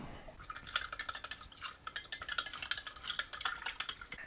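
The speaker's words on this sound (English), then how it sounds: "And then you give it a good stir." A cup and a half of sugar is stirred into a ginger beer base batch, making quick, rhythmic scraping and swishing strokes, close and fairly bright, repeating continuously with no talking.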